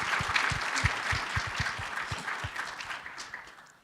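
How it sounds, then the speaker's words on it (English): Audience applause at a city government accountability report event, a dense burst of clapping from a crowd that starts strong and gradually thins out over a few seconds, with no voices on top. "So give yourself a round of applause."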